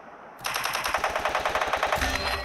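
Automatic gunfire in the Free Fire video game starts suddenly and runs as a rapid, evenly spaced string of loud, close shots that keeps going to the end.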